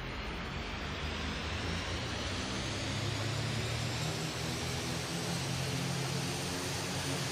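A propeller airplane engine in the Roblox game Aeronautica drones steadily at one-third throttle, a continuous loud broadband roar with no talk over it.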